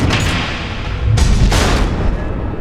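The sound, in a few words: missile explosions in Batman video game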